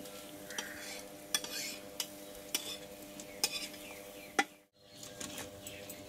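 A rumali paratha fries in a little oil on a pan, giving a soft, steady sizzle with several sharp clicks and scrapes of a utensil as the flatbread is flipped and pressed, and a brief quiet gap near the end.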